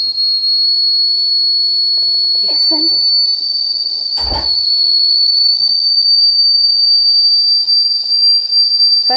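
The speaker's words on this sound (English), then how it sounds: "Can you hear that sound? The kettle is getting hot." A heating kettle whistles with a steady, shrill, continuous tone throughout. A short spoken word and a dull thump break in briefly partway through.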